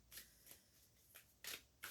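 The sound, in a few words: shuffling tarot cards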